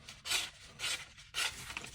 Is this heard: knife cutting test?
yes